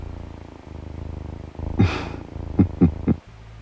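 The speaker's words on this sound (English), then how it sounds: "Completely ruining the moment with purrs" A cat purrs softly in the romance game Love and Deepspace, a low rumbling rhythm running under a few sharper snuffly breaths toward the end.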